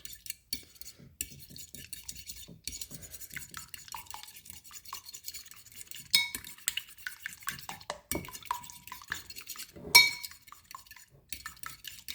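A fork whisks eggs in a bowl for a goat cheese omelette: quick, light rhythmic clinking and scraping, close and fairly quiet, with short pauses between bursts.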